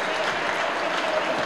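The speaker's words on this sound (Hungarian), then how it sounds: "Felzendült a helyi közönség is." At a Hungarian men's NB I/B basketball game, Nagykálló against Eger, the home crowd bursts into cheering and applause. The dense, steady roar of many hands and voices lasts the whole short stretch.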